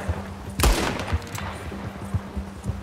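Gunfire in the video game Red Dead Redemption 2, with one sharp loud shot followed by a scatter of quieter pops and clatter during a chase, fairly close.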